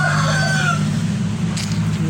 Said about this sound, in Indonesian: Ini banyak ayamnya ini.